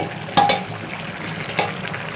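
Bottle gourd cooks with shrimp in a pan, giving a soft steady sizzle with two sharp clatters of stirring against the pan, fairly quiet and close.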